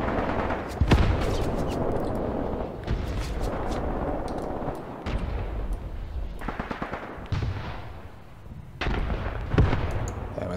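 Mortar rounds land on enemy positions in Graviteam Tactics, a series of heavy booming impacts and crackling gunfire coming in loud waves with brief lulls between.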